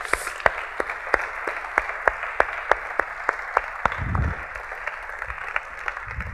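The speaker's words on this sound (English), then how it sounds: "he earns the loudest applause of this evening" Applause rises from the audience at a conference opening ceremony for outgoing president Chris Wells, a steady wash of clapping with sharper individual claps standing out at regular intervals and a brief low rumble partway through.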